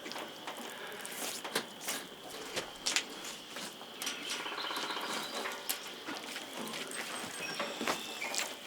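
Red-winged blackbird singing outdoors at a bear hunting camp, repeated bright chirps and trills over steady ambient noise with scattered rustling and patter nearby.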